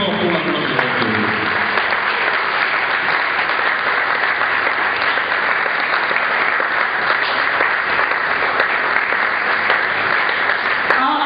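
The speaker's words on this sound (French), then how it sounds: "pendant qu'ils s'élèvent, on acclame plus fort pour la gloire de Dieu" A large conference audience of pastors in Kinshasa applauds the speakers, a loud, dense, continuous wall of clapping that holds steady without a break.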